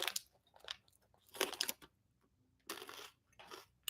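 Very hard, crunchy peanuts being chewed close up, with sharp bursts of crunching in several short bouts separated by quiet gaps.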